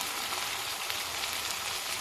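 Steady, even sizzling of stuffed tinda dropped into roasting masala in a hot pan, a constant bright frying hiss with no voices.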